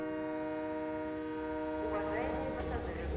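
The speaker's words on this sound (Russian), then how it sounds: "На первый путь прибывает поезд номер 43 Алматы-Кустанай." A passenger train pulls in on the first track of a station on the Almaty–Kustanai route, its long steady horn tones sounding throughout, with a loud low rumble of the approaching wagons building near the end.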